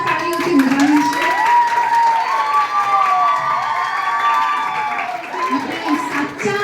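A college audience rises for a standing ovation at a commemoration event for the poet Jhaverchand Meghani, loud sustained clapping and cheering filling the hall, with voices and a tonal musical line over the applause.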